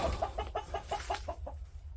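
Hens cluck in a rapid run of about nine short calls in a chicken coop, fairly close, then trail off into quiet.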